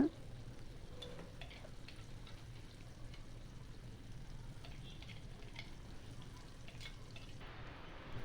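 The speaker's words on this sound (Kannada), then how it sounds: "ಸ್ವಲ್ಪ ಫ್ರೈ ಮಾಡೋಣ" Tamarind frying in a pan for veldt grape chutney, a soft steady sizzle running evenly throughout with faint stirring scrapes, fairly quiet and without talk.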